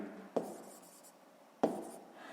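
A pen scratches on paper in two short, distinct strokes about a second apart, close and quiet.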